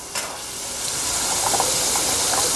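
Sliced radish rounds sauté in hot oil, a close, continuous hiss and sizzle that swells slightly after a soft clink at the start.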